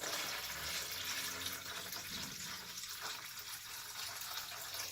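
Hot water gushes and splashes steadily into a cup for several seconds, a close, continuous pouring sound with no voices.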